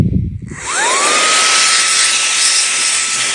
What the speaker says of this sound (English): Get one of these air blowers in,